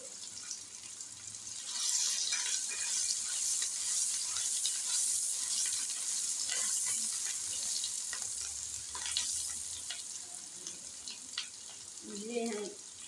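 Garlic and fresh green coriander fry in a pan with a constant bright sizzle, broken by occasional stirring scrapes and a brief voice near the end.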